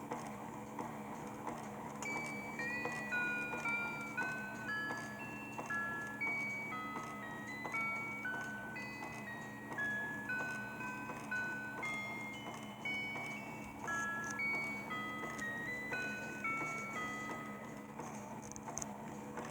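A homemade grandfather clock plays its hourly chime melody, a steady sequence of clear bell-like notes over about twenty seconds, moderately loud with a faint mechanical hum beneath.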